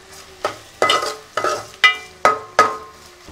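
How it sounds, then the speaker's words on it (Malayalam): Spices tipped onto softened onions in a hot pan for a Kerala beef and kappa curry, stirred with six sharp scrape-and-clatter strokes in a steady rhythm over a continuous close sizzle, no voices. "നമ്മുടെ സവാള വാടിയിട്ടുണ്ട്. നമുക്കിനി മസാലകളൊക്കെ ചേർത്ത് കൊടുക്കാം."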